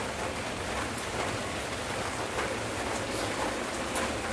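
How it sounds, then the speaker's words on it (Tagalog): Steady rain pours down in a continuous, even hiss, moderately loud and close, with no voices or other sounds over it. "Kasi, ayan, umuulan."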